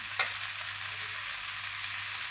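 Jowar dhirde, a sorghum flour pancake, frying in oil in a pan, giving a steady, close, even hiss with one brief scrape near the start.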